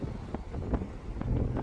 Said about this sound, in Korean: 근데 오늘 바람이 세서 밖에 오래는 못 있을 것 같네요.